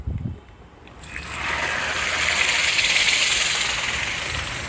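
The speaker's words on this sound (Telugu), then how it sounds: "ఇప్పుడు స్టవ్ ఆఫ్ చేసుకొని ఈ చట్నీ వేసుకుందాం." Hot tempering of curry leaves and asafoetida bursts into loud, steady sizzling as chutney hits the pan with the stove off, jumping from quiet to a sustained hiss that holds to the end.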